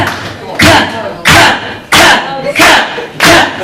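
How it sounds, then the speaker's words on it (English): A women's audience at a comedy show claps slowly together, five loud, evenly spaced group claps about two-thirds of a second apart, each ringing briefly. "Should we start with a slow clap, ladies? Slow claps."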